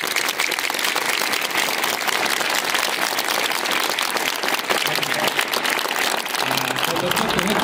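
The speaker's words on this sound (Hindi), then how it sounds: "इतनी शानदार तालियां आपकी नहीं बजी है।" Dense audience applause fills a school ceremony honouring former students, a steady loud wash of many hands clapping throughout, with a voice faintly audible beneath it.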